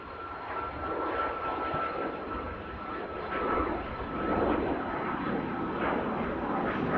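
A jet airliner rolls down the runway and rotates on takeoff at Manchester Airport, a broad steady engine roar with slowly swelling loudness heard from a distance.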